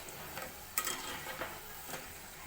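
Mathri dough snacks being stirred in hot oil over a high flame, a soft steady frying hiss with a few brief scraping stir strokes, close and alone.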